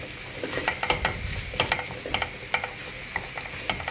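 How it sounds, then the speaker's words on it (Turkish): Crumbly lor curd cheese is mashed thoroughly in a bowl for a Turkish breakfast dish, giving soft, irregular squelching and scraping strokes with sharp clicks of utensil against bowl, close and fairly quiet. "İçerisindeki böyle diri diri duran peynirleri iyice Ezdikten sonra"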